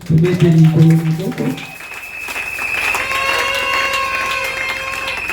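Church congregation at a wedding celebration applauding and cheering for the Lord, a burst of clapping and voices under a strong sung or shouted phrase, then sustained tones and crowd noise continuing steadily.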